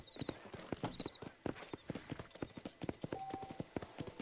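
Rapid rhythmic hoofbeats of a galloping horse in the Red Dead Redemption video game, steady and close, with a few brief electronic chimes over the pounding.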